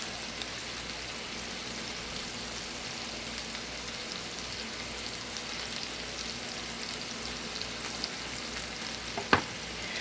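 Seasoned vegetables fry in a pan with a steady, close sizzle and crackle, broken by a single sharp utensil tap near the end.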